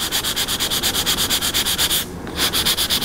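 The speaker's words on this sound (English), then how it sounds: "So we just have to keep sanding." Rhythmic back-and-forth sanding of walnut wood, close and steady, with a brief pause before the strokes resume.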